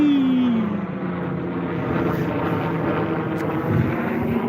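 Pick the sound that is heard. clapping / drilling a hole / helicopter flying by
helicopter flying by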